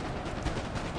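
Massed musket volley fire from line infantry shooting uphill into a square in Napoleon: Total War, a dense, continuous crackle of overlapping shots at steady loudness for the full second with no voices.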